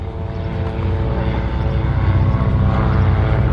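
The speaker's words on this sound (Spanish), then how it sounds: "La capacidad de maniobra del autogiro es realmente increíble." An ultralight autogyro flies an air show display, its engine and propeller giving a loud, steady droning hum with a rich harmonic buzz that swells slightly as it passes nearer.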